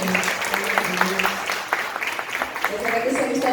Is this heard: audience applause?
yes